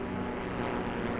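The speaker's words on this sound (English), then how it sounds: "Oh god, they've got airplanes." Propeller airplanes flying overhead in the World War II shooter game Heroes and Generals, a steady droning engine roar that stays constant and fairly loud for its brief length.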